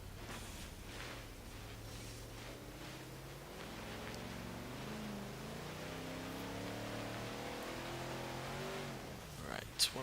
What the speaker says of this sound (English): we're in the Ford F100 trophy truck. Not upgraded or anything, so it's still got the rear wheel drive and also 850 horsepower